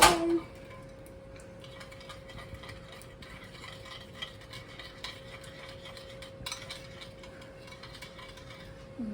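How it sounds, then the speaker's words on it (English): Spicy sauce mixture stirred in a bowl, with quiet scraping and light clinks of a utensil against the sides, faint and close, over a steady low hum. "And then stir it all together."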